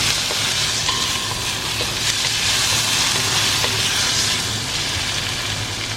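Tomato, onion and garlic sauté in a hot pan with a steady, loud hiss and crackle, broken by faint scrapes of stirring, continuous throughout with no voices.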